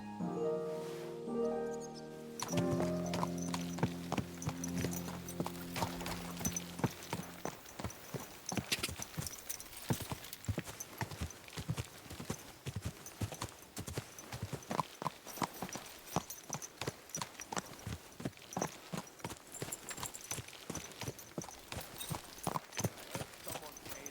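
Horse hooves clip-clop steadily on a hard surface in the medieval role-playing game Kingdom Come: Deliverance II, a sustained run of regular, fairly close hoofbeats, with a voice briefly speaking at the start over the sound.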